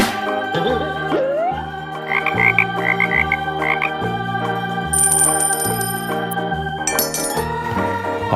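A frog toy's croaking sounds over bright, bouncy children's music with tinkly chimes, coming in repeated rhythmic bursts at steady volume with no talking.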